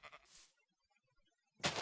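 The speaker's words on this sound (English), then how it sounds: "Come here, sheep." Faint sheep bleats from the video game Minecraft, one at the start and another louder one at the end, separated by near silence.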